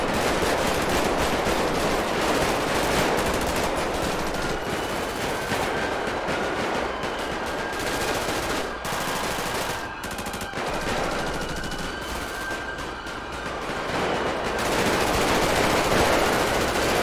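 Dense, continuous automatic gunfire fills a chaotic shootout in the OCRP video game, a loud, unbroken rattle of shots that barely lets up throughout.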